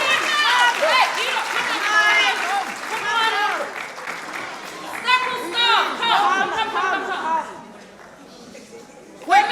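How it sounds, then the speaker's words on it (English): Audience applause at a live talk on the science of Black hair, a sustained wash of clapping with cheers and chatter that swells, dips briefly and rises again before fading. "A round of applause for them as well."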